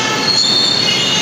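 A Hyderabad metro train passes overhead in the rain, its wheels giving a loud, continuous high-pitched squeal over a steady rumbling roar, with no voices.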